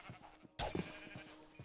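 Sheep bleating in the RLCraft modpack of Minecraft: a loud, close bleat bursts out midway, followed by softer, repeated short bleats.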